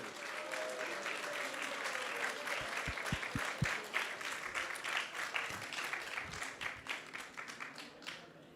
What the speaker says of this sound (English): let's give a big round of applause to all the mothers of ISV